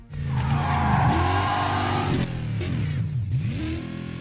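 Cars racing in the video game Burnout Paradise: a loud, continuous engine roar with rising and falling revs and gear shifts, plus brief tire squeal, filling the whole stretch without speech.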